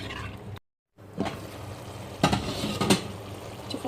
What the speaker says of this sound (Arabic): بس بحرك كل هالاشياء مع بعض وبغطيه